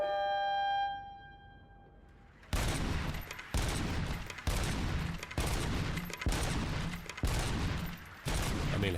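Rapid gunfire from RoboCop: Rogue City, loud close bursts of automatic shots repeating in steady rhythmic volleys after a brief quiet tonal lead-in.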